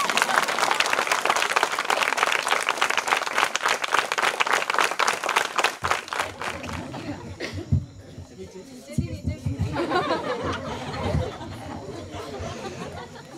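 An audience bursts into sustained applause at a publishing event, dense clapping for about six seconds before thinning into scattered claps, laughter and crowd chatter.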